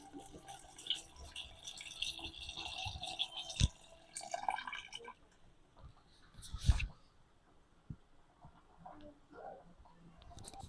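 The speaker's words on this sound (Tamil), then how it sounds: "அந்த பட்டாணி ஃபுல்லா முழுகுற அளவுக்கு தண்ணி ஊத்துனா போதும்." Water poured over soaked dried peas in a cooking pot for Mumbai-style ragda, a steady splashing trickle for about five seconds, followed by scattered drips and small clinks at a fairly low level.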